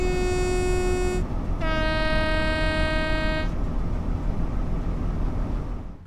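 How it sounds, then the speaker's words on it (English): A two-tone horn on a Class 166 train in Train Sim World 4 sounds in two loud blasts, the first about a second long and the second slightly lower and longer, over a constant rumbling engine drone. "I always thought the horn sounded pretty bad, and it's only marginally better than the original Train Simulator version of the 166"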